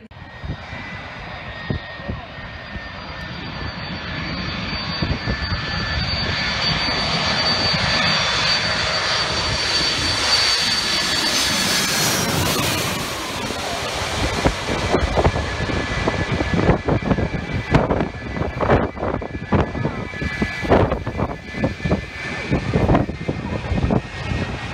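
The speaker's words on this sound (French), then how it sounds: "Et la bête, c'est le 747 de la KLM en provenance d'Amsterdam." KLM Boeing 747 arriving from Amsterdam and landing low over Maho Beach, St Martin: a loud, sustained jet engine roar swelling and peaking overhead, then giving way to gusty, buffeting wind and crackling jet blast rumble.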